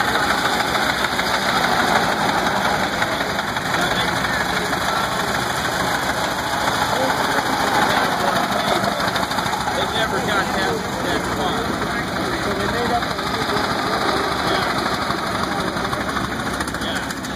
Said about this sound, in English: 1909 Buick.